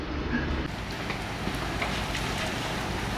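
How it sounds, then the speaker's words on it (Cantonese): Sausages sizzle and spit in a frying pan at a remote bikepacking camp in Kyrgyzstan's western Tian Shan, a steady, dense crackle that holds evenly from start to finish. "呢幫我哋煎香腸"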